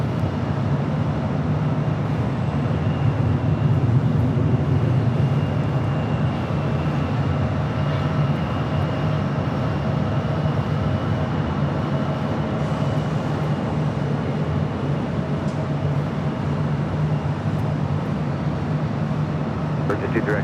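Steady, loud jet roar at Los Angeles LAX airport, an aircraft rumbling continuously with a deep low drone and airy hiss throughout, nearby and unbroken, with faint radio chatter in the background.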